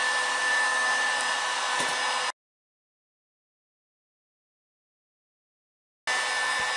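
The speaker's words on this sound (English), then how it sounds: "Now I'm going to heat it up and finish this bend off." A hot air gun blows steadily on acrylic hardline tubing to soften it for bending, cutting out abruptly into silence for several seconds before the loud, even whoosh resumes.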